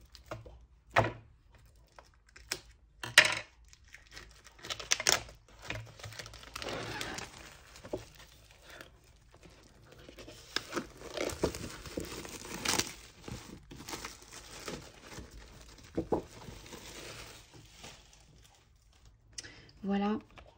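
Scissors cut open the plastic wrap on a pad of 30.5 cm scrapbooking paper, with scattered crinkling, snipping and tearing bursts over about twenty seconds, fairly faint and interrupted by quiet pauses.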